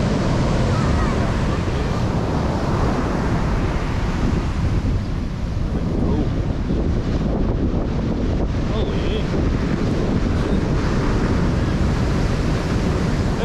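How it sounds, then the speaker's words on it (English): Ocean waves surge and wash onto a fishing beach under strong gusting wind, a loud, continuous broadband roar that buffets the microphone throughout with no breaks. "It's just the waves."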